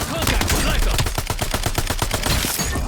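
Rapid bursts of automatic gunfire in Call of Duty Warzone on Rebirth Island, a steady rhythm of close, loud shots running without a break and ending in a double headshot.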